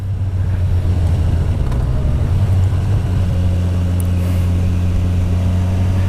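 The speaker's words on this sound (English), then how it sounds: "You don't hear the exhaust, you just hear this wonderful admission sound" Kawasaki Versys 1000 SE GT four-cylinder engine heard while riding, a loud, steady intake drone with a strong low hum and constant wind rush, no voices.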